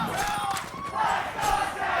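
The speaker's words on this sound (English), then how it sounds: "And the crowd comes to life" A live crowd at a Valorant esports match, Sentinels versus NRG in VCT Americas, roars and shouts in a loud, continuous swell that fills the arena.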